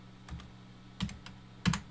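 Three separate keystrokes on a computer keyboard, evenly spaced, crisp and close, entering dimensions in SketchUp modeling software, with no talking.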